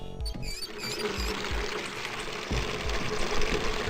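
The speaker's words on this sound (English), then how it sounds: "Maybe I can use the shower here to fill the bucket with hot water" In the game 999: Nine Hours, Nine Persons, Nine Doors, a shower runs into a bucket to fill it with hot water, a steady pouring splash with soft, regular low thumps beneath.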